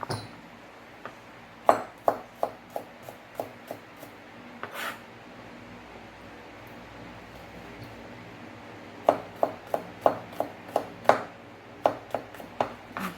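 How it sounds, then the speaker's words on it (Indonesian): Garlic is chopped finely with a knife on a board, giving sharp, rapid knocks in two bursts of about ten strokes each, close and crisp, separated by a quiet pause; nobody talks. "ini kita chop halus ya"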